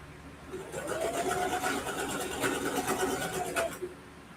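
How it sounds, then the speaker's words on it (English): A home sewing machine back-stitches while sewing a quilted ruffle backpack. It makes a steady close mechanical whir with a rapid needle rhythm for about four seconds, then stops. "And I'm back stitching."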